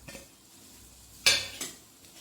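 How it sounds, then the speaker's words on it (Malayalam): Chopped onion and small shallots sauté in coconut oil, a faint low sizzle broken by two short, sharp scrapes of a spoon stirring in the pan. "അതിലേക്ക് ഞാൻ ഒരു സവാളയും ഒരു മൂന്നാല് ചെറിയ ഉള്ളിയും കൂടി നുറുക്കിയെടുത്തിട്ടുണ്ട് അതൊന്ന് നമുക്ക് വഴറ്റിയെടുക്കാം"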